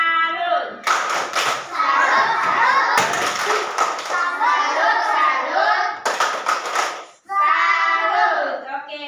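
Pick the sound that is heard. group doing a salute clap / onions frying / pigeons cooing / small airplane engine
group doing a salute clap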